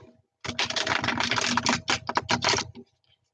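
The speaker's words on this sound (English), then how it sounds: "I'm going to shuffle the hell out of this deck until we get moving along here." A new deck of playing cards being shuffled close by, a dense run of rapid riffling clicks lasting about two seconds and ending in a few soft taps, with no talking.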